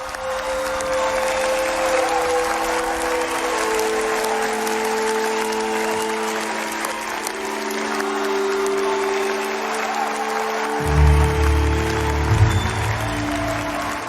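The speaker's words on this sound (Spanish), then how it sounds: "Líderes mundiales aplauden el Acuerdo Climático de París como salto importante para la humanidad." World leaders in a conference hall applaud the Paris Climate Agreement, sustained crowd clapping that stays steady throughout, with music or background tones running underneath and a low rumble rising near the end.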